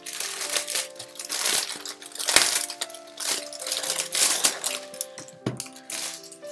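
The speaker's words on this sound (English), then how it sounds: "Now, open the next cover." A zippered cover for a Hobonichi Cousin 2020 planner is handled and opened, with close crinkling and rustling of material, short scraping and clicking bursts, and a few sharper ticks in uneven pulses.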